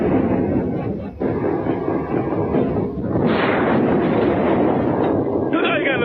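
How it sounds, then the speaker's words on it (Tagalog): Explosions in a scene from the anime One Punch Man, Tagalog dub: heavy rumbling blasts and booming roar sustained under dramatic sound effects, loud and dense, with a voice speaking over them. "may mga pagsabog na nagaganap ngayon"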